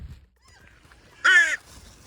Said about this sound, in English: Hello, crow. Here you are, yeah.